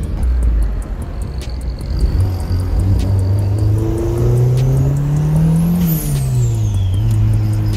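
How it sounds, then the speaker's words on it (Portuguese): A Chevette fitted with a turbocharged AP engine revs loud and close, its droning tone climbing steadily, peaking with a high turbo whistle, then dropping back to a rumbling idle, with no talk. "Bora acelerar o Chevetão, quem sabe ela dá uma voltinha aí."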